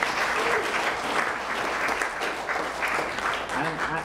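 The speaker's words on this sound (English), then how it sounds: "receiving applause because he's here this evening" At a musical tribute evening, a concert audience gives sustained, loud applause, a thick even roar of many hands clapping that holds steady throughout, with faint voices mixed in.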